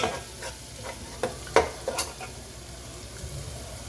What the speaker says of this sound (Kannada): ಈ ಮಸಾಲೆ ಈ ಥರ ಇದರಲ್ಲೇ ಹುರ್ಕೋಬೇಕು